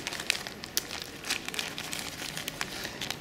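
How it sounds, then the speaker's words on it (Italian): Synthetic grass for a diorama is pulled and torn off, producing close, continuous crinkling and crackling with small sharp ticks scattered through, fairly quiet and without talking. "mettere l'erba sintetica l'erba che si può semplicemente strappare"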